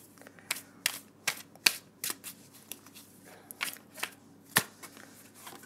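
Playing cards riffled and shuffled for a tarot reading, a series of crisp, papery bursts at irregular intervals, close and fairly quiet against a still room.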